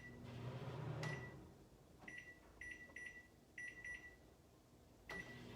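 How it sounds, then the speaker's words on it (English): Microwave oven cooking rice, a low running hum punctuated by a click and a series of short, faint electronic beeps, heard without talk. "And I'm going to pop it in the microwave."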